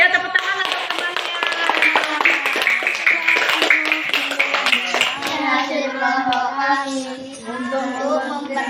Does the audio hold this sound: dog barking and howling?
no